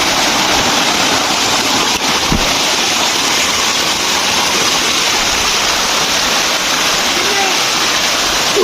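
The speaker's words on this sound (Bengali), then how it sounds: "জর্জরি ঝর্ণা" Jorjori waterfall at Napittachora in Sitakunda pours with a loud, steady broadband roar, close and unbroken, with a voice briefly heard under the rushing water.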